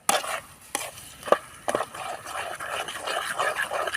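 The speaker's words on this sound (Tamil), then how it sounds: "முட்டையை மிக்ஸ் பண்ணிக்கலாம்." A spatula stirs egg through a bitter gourd stir-fry in a pan, making a series of scraping strokes and soft sizzling. A dog's bark or pant may be mixed in, and no one speaks.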